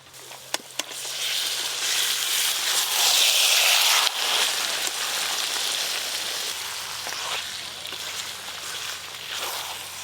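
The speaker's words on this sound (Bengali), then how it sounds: "এবার মশলা মাখানো মাংসটা দিয়ে দেবো" Spiced, marinated mutton dropped into hot oil that has separated from the masala, setting off a loud, steady sizzling hiss that swells, then settles into continuous frying crackle.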